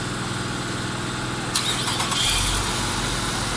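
A 2011 Nissan Altima 2.5 S cranks and fires up about halfway through, a short starter burst giving way to a low, steady idle rumble close by.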